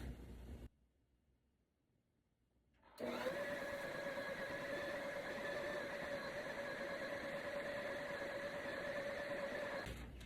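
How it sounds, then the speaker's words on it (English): After a short quiet pause, an electric stand mixer whirs up and runs at a steady speed while mixing butter into yeast roll dough, with a loud, even motor hum and whine that holds until it stops near the end. "I'm going to increase the speed of my mixer and let it mix so that it kneads for about 8 to 10 minutes"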